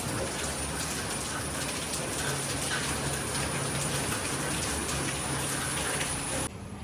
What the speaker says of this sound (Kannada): ನೋಡಿ ಫುಲ್ ಮಳೆ ಬರ್ತಾ ಉಂಟು ಆ್ಯಕ್ಚುಲಿ